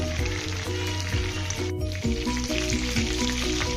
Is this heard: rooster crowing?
no